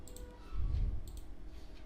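A computer mouse double click on a Windows PC: two quick, light clicks close together, soft and near against a low background hum, with no speech.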